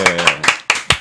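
A few quick hand claps, close and bright, welcoming a guest at the start of a talk show, with a voice talking over them.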